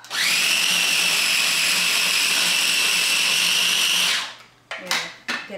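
A food processor whirs loudly and steadily for about four seconds, chopping an Italian green sauce with added oil, then spins down, followed by a few short clunks.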